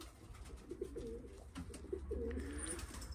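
Domestic pigeons coo softly in a low, rolling murmur of repeated calls, fairly faint and close, with no one talking over them.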